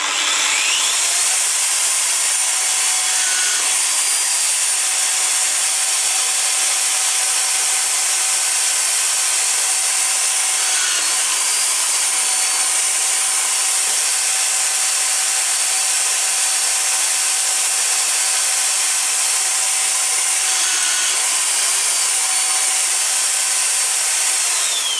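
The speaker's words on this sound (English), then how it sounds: "there is the piece with 8 uniformly drilled holes" A small power drill bores holes in a miniature 1:5 scale snare drum hoop, a continuous loud high-pitched whine held steady for the whole stretch with slight rubbing variations and no voices.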